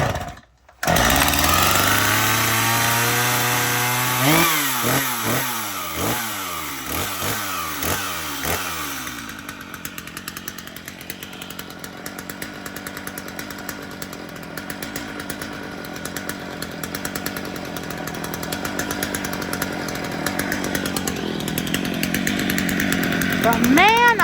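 A chainsaw cold-started on half choke roars to life after a pull, revving in rising and falling bursts, then settling into a loud, steady high idle, close and continuous.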